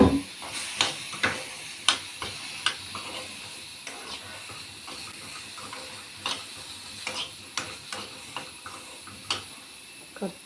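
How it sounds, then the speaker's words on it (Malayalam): Okra sizzles in oil in a cooking pan under a constant hiss, broken by a string of sharp scraping and clinking stirring strokes at irregular intervals, and no one speaks. "അതേ പാത്രത്തിൽ നമുക്ക് നമ്മുടെ വെണ്ടയ്ക്ക ഉണ്ടല്ലോ വറുക്കാം."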